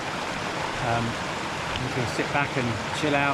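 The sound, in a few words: flowing stream water at a wild camping spot in Wales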